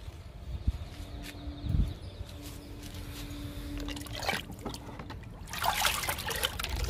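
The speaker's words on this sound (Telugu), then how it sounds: "జామ మొక్కకి లిక్విడ్ ఇచ్చేద్దాము" Liquid fertilizer trickles and dribbles onto the soil around a guava plant outdoors, a soft, uneven pour with brief splashes and faint background hum.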